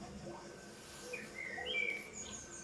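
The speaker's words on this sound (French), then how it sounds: "Tu peux sentir les petites mésanges voler à côté de toi, autour de tes mains." Small tits chirp faintly nearby, thin high tweets coming in a short cluster over a soft, quiet background hum.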